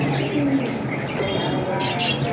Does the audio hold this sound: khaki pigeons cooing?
yes